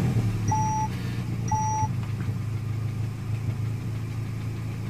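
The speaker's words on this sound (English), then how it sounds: "but if I start the engine" A Peugeot 208 with its ESP and engine warning lights on idles with a steady low hum, close by. Two short electronic beeps sound near the start, and no one talks.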